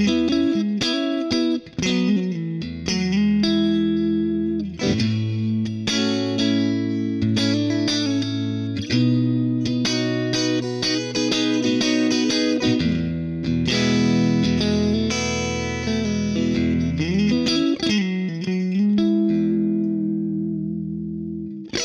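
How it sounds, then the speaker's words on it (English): Electric guitar played with a clean tone and a little reverb through a Hughes & Kettner Black Spirit 200 amp, ringing chords and picked notes that sustain and then trail off at the end. "it's a really nice chimey sort of open-ended American clean"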